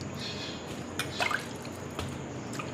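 Water drips and dribbles off tomatoes lifted out of a bowl of water, with a few soft splashy drops landing close by over a faint, steady background hiss.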